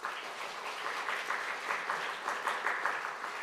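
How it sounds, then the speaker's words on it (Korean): A church congregation applauds at a Sunday service, a soft, steady patter of many hands heard from a distance. "인사할 때에 크게 박수해 주시기 바랍니다"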